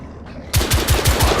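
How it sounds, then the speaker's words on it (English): Rifle fire in the video game The Order: 1886, starting abruptly after a quiet moment as a rapid string of about five evenly spaced, close, loud shots. "I need my rifle for this"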